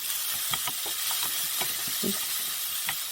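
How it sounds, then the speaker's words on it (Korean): Onion stir-fried in a pan with a pinch of salt, a steady sizzling hiss broken by repeated scraping and stirring strokes at close range, no talking. "그래서 양파를 먼저 볶겠습니다"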